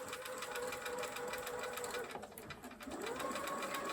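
A sewing machine chain-sews quilt blocks in one continuous, even whir close by, with a faint voice beneath it.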